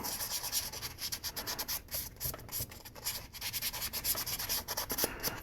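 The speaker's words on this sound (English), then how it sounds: "we're going to give the whole piece a light sanding" Sandpaper rubs lightly over a resin figure in quick back-and-forth strokes, a soft, close scratchy rasp with brief pauses between passes.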